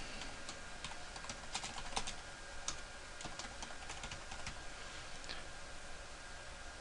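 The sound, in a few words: typing notes on a computer keyboard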